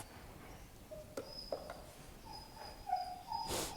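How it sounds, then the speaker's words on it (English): A dog whines in a few high, thin, wavering whimpers in the background, faint and intermittent, with small knocks and rustles nearby during a Kong-stuffing session. "That's my dog you're hearing in the background because he really wants this."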